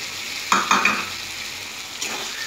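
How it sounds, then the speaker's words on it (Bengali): Potatoes and green peas being sautéed in a pan for a paneer dish, with a soft steady sizzle and a few sharp spatula stirs and scrapes close by, no talking. "আলু আর মটরশুঁটিটা একটু কষিয়ে নিচ্ছি।"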